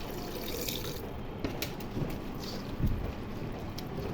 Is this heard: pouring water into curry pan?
yes